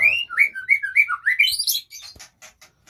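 Farm-bred songbirds kept for quality chirp and whistle close by, a rapid series of bright, rising and falling notes that tapers off into a few short tweets.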